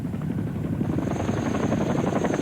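Steady, heavy rotor thumping with a loud, rumbling engine drone as a Chinook helicopter lands in Bourke, Australia, close by and continuous, no voices.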